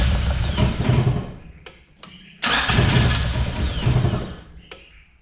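A Toyota 4AGE engine cranks over with the starter, stops briefly, then cranks again and catches. It runs rough and loud while still cold, and the engine noise stays close and alone throughout.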